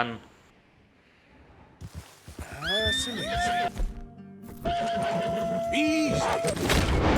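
A Missouri Fox Trotter horse in the video game Red Dead Redemption 2 whinnies loudly several times over steady clip-clopping hooves, close and prominent, with other game sounds layered beneath.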